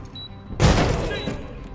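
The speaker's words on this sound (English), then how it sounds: "throw a grenade around the corner to here. Throwing frag!" A single grenade blast in the video game Door Kickers 2, a sudden loud boom with a sharp crack and a short rumbling tail fading over about a second.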